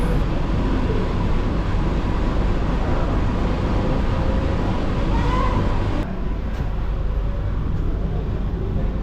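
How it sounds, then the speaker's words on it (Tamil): An AC suburban train starting off from Chengalpattu toward Chennai Beach rumbles steadily with continuous low mechanical noise and rushing air, loud and close, as if heard from inside a carriage. "இப்போ பார்க்கில் தான் ட்ரெயின் ஸ்டார்ட் ஆகிடுச்சிங்க"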